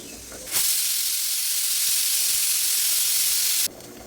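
A pressure cooker's whistle vents steam in a loud, steady hiss lasting about three seconds, starting and stopping abruptly, heard close up in a kitchen where potatoes are boiling.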